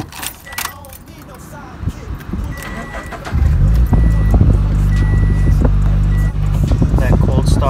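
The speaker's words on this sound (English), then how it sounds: "That cold start, baby." A Mazda DA9 car engine cold-starts, cranking and firing up, then settles into a loud, steady rumbling idle close by, preceded by jangling keys and clicks.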